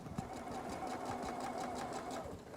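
Sewing machine stitching a quilt block, a steady fast mechanical whir with a rapid needle rhythm running continuously at close range.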